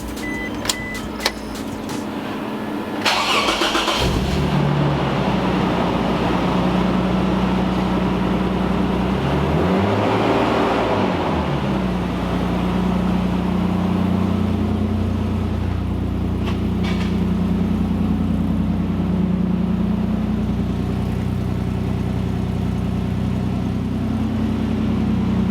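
A supercharged Toyota Hilux engine cranks with a few clicks, catches, and settles into a loud steady idle, with a rise in revs partway through before it drops back to a constant drone nearby.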